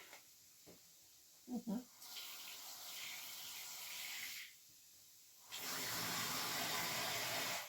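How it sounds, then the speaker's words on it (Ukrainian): Water is poured into a frying pan of stewing onions and carrots, bringing two bursts of hissing sizzle after a few soft clicks, with quieter room sound in between. "І, напевно, я заразом сюди вілью водички."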